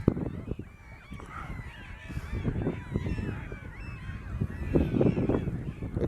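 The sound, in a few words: many gulls calling close by at Bakkhali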